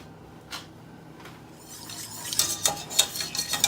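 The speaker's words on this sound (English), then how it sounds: "I'm just kind of whisking those two together, and it's liquidy." A whisk clinking and scraping in a pan of melted peanut butter and coconut oil, quiet at first, then a run of quick metallic taps and swishes growing busier near the end.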